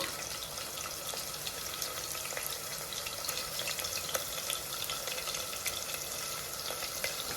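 Onions and green chilies frying in a pan give a quiet, steady crackling sizzle with fine popping spatters throughout.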